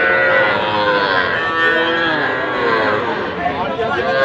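Young bull calves at a busy cattle market, their drawn-out moos rising and falling continuously and loudly, with crowd chatter and voices mixed in around them.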